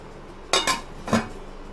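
A lid goes onto a pot of black chickpea curry cooked in desi ghee and butter, giving two quick metallic clinks followed a beat later by a third softer clink, all close and alone over quiet room tone.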